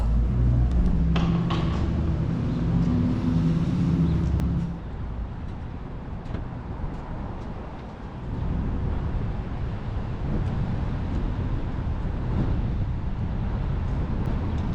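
A car drives around the outside of the Mall at Short Hills, a steady cabin-interior road rumble with wind noise, a louder stretch at first and then a slightly quieter, even drone, with no talking.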